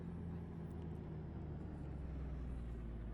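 The Kenworth T2000 truck engine in American Truck Simulator gives a steady, low, deep drone at idle or cruise, with no talk over it.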